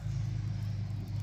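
A Dodge Ram pickup truck passes at a distance with a steady low engine rumble, droning evenly throughout without other sounds.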